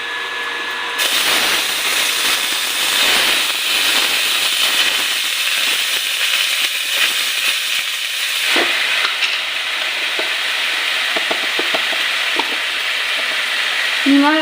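Mixed vegetables dropped into hot oil in a pan, a loud, dense, continuous sizzle close up with occasional stirring scrapes and no talk.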